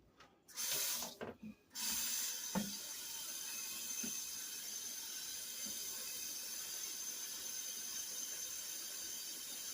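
Tap water pours steadily into an Instant Pot over a 10-ounce bag of seasoning with neck bones, a constant close rush after a few brief clanks at the start.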